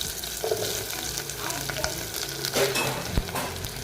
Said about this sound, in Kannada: ಒಂದು ಈರುಳ್ಳಿ ಕಟ್ ಮಾಡಿ ಇಟ್ಕೊಂಡಿದ್ದೀನಿ ಈರುಳ್ಳಿ ಹಾಕ್ತಾಯಿದ್ದೀನಿ